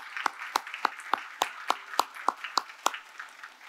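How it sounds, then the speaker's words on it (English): Evenly spaced single claps at an awards ceremony, about ten sharp, close hits in a steady rhythm, like one person or a small group clapping in unison rather than a full crowd. "Please, with a round of applause."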